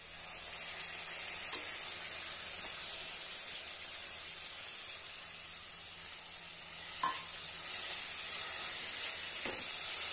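Cabbage and green peas stir-fry steadily in a pan with continuous close sizzling and hiss, broken by a few soft clicks of a spatula against the pan.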